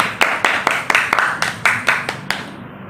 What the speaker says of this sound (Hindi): तालियों की गड़गड़ाहट के साथ आज के संचालक